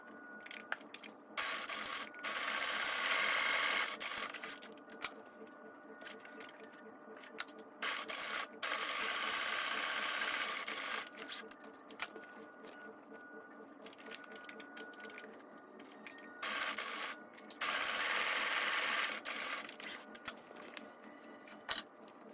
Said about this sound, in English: you're going to sew all 4 corners on your other piece of fabric